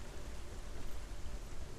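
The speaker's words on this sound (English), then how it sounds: "Oh, it's raining now?" Steady rain in Hellblade: Senua's Sacrifice, a dense, even hiss of falling drops that stays at a constant moderate level the whole time, with no voices over it.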